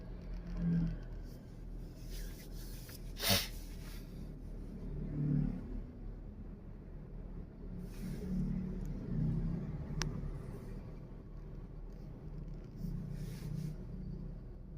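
A car driving, a low steady engine rumble inside the cabin with a few faint thumps and rustles, rising slightly at times, no talking.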